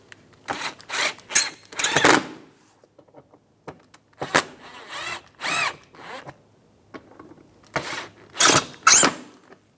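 A power driver runs in repeated short bursts while tightening fasteners on the front inner fender liner of a 2010-2016 Cadillac SRX. Several whirring spurts start and stop close by, with quiet gaps between them.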